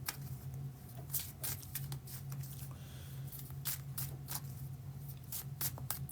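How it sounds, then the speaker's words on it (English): Tarot cards are shuffled by hand, producing quiet, rapid bursts of riffling clicks and flutters repeated throughout at close range with no speech. "I am trying to get these cards shuffled back into the deck."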